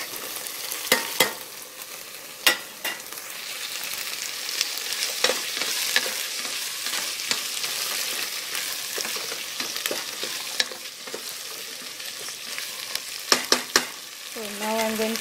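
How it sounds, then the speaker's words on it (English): Tomatoes tipped into a hot frying pan and stirred for a vegetable biryani: a steady oily sizzle runs throughout, broken by sharp spoon scrapes and knocks against the pan. "Now I'm going to add the tomatoes."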